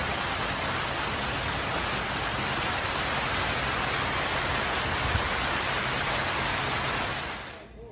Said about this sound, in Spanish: Ya estábamos listos para ir a la alberca y que empieza a llover.